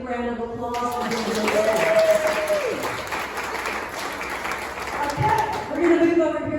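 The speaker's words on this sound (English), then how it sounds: "give them a big round of applause" Conference audience applauding steadily for several seconds, a broad wash of clapping with a voice speaking over it near the start and again toward the end.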